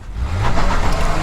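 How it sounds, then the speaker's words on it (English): A 2024 Nissan Pathfinder Platinum AWD in sport mode accelerating hard from a standstill, its engine note swelling loud and close over a brief rising roar. "Hard on the throttle."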